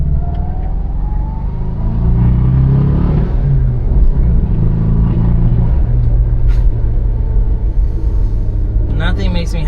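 A Daihatsu Move turbo kei car drives along with a steady low engine rumble and road noise, rising briefly as it revs, while someone talks over it from inside the cabin.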